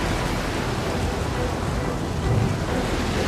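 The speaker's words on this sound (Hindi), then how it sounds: "मैं जानता हूँ ये भयंकर तूफान मेरी वजह से तुम पे आया है" A violent storm at sea roars as a dense, broadband wash of rain, wind and surging waves, loud and unbroken, with a low rumble swelling briefly near the end.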